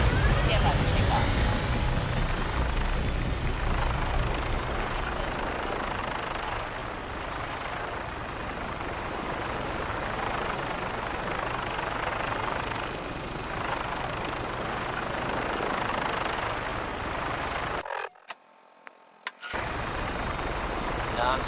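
A helicopter-like aircraft rotor and engine roar in Fallout 4, a steady loud drone with rumbling low end running for most of the clip before cutting out abruptly near the end, with faint voices underneath.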